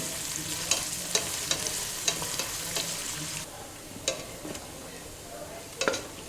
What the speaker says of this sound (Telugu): ఉల్లిపాయని వేయించుకోవాలి గోల్డెన్ బ్రౌన్ కలర్ వచ్చే వరకు వేయించుకోవాలి